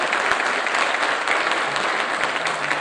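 Dense audience applause at the 51st anniversary concert of the Denizaltı orchestra in Silivri, a steady wash of many hands clapping with no pauses, loud and even throughout.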